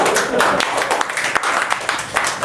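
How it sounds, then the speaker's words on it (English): An audience breaks into steady, dense applause after a presentation, many hands clapping together at close range with no gaps, filling the whole moment at full volume. "let's give another round of applause."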